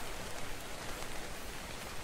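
Steady, soft hiss of rain falling continuously in ARK: Survival Evolved, an even wash of noise with no other sounds standing out.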